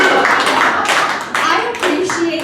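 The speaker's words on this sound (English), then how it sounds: "I appreciate the applause." Audience at a comedy show claps in uneven bursts, close and fairly loud, with a voice speaking over parts of the clapping.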